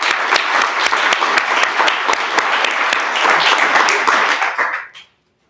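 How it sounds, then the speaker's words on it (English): Sustained audience applause at a treatment court graduation ceremony, steady dense clapping filling the room for about five seconds before cutting off abruptly. "let's give a round of applause for Tiara Ekman."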